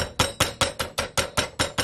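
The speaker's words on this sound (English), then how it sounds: "gonna use a food hammer." Food hammer pounding a chicken breast flat on a board, nine evenly spaced thuds at a quick steady rhythm, close and clear with nothing else audible.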